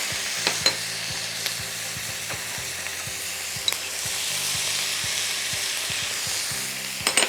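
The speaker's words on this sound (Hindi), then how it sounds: "तेल के साथ आपने इसको सौटे करना है।" Spices sizzling in hot oil for chicken jalfrezi, a steady crackling fry with occasional sharp pops and spoon clinks against the pan, continuous and close with no talking.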